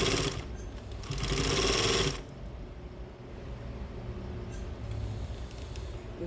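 A home sewing machine with a slipping drive belt stitches through fabric for a thong bikini with half-cup top; a loud, fast run of stitching lasts about two seconds, then drops to a quieter, steady mechanical whir.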